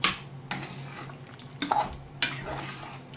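Cooked vegetables mashed in a pot for Kerala astram, with a few sharp scraping and clattering strokes of a utensil against the metal, spaced out over soft background hiss.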